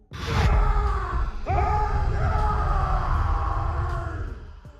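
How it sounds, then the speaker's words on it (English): A ghost in The Sims 4 lets out a Haunting Shriek, a loud, wavering wail that starts abruptly and holds for several seconds with eerie, shifting tones. "Casper, this is the Haunting Shriek"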